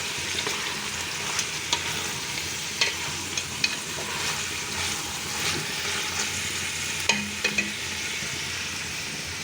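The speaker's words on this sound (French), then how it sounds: "On est en train de frire." Onions and meat frying in a pan for homemade Moroccan couscous give a steady, close sizzle, with scattered clicks and scrapes from stirring throughout.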